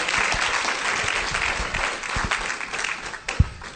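Loud, sustained applause from a church congregation during a sermon, a dense wash of many hands clapping with a few sharper claps standing out.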